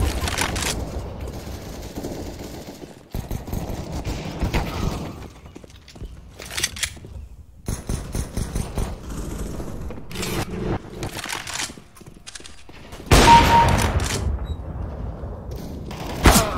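Gunfire in Counter-Strike: Global Offensive: bursts of shots and sharp cracks, loud and close, fill the stretch, with a heavy volley near the end over continuing in-game noise.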